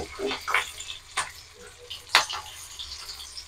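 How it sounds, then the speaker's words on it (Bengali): Pea fritters frying in oil in a kadai and being turned over, giving a soft steady sizzle with a few sharper clinks and scrapes from a spatula, close up and moderately quiet. "কড়াইশুঁটির এই নিরামিষ রেসিপিতে লাল করে ভেজে তুলে নেবো"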